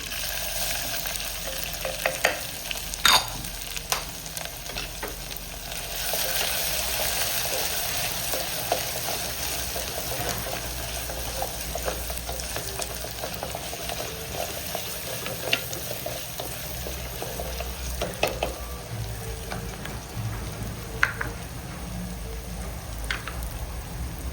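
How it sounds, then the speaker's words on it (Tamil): Curry leaves and crushed garlic fry in hot oil for a country catfish curry, a steady close sizzle and crackle running throughout with occasional sharper pops and stirring clatter, no talk. "கறிவேப்பிலையை போட்டுக்கிறேன். நசுக்கி வச்ச பூண்டு"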